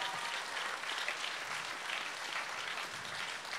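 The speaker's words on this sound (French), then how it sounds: "On peut les applaudir déjà" Audience at a comedy show applauding, a dense, continuous wash of clapping, moderately quiet and with no talk.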